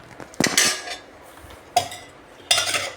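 Metal utensils clink and scrape against a pot while tempering is prepared for sweet rice, three distinct clattering bursts separated by quiet pauses, close and alone.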